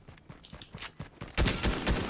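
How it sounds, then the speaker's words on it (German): Gunfire in the Fortnite video game, a few faint scattered shots followed by a louder rapid burst of automatic fire, with no voices. "ich werde schon angeschossen"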